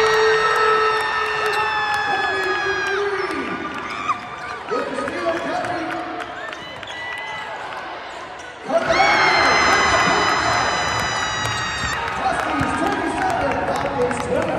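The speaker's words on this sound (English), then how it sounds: "the whole crowd is feeding off of that. The place went nuts." A basketball arena crowd roars and shouts wildly throughout, with sneaker squeaks, whistle-like tones and bouncing balls, the noise dipping briefly then surging back loud and sustained.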